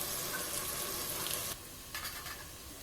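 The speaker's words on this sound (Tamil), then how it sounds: "நல்லா வதக்கி விடுங்க தக்காளி நல்லா வதங்கட்டும்" Tomatoes and spice masala cook in a pan for Ambur biryani, making a faint, even hiss of frying that drops slightly halfway through, with a few soft stirring sounds.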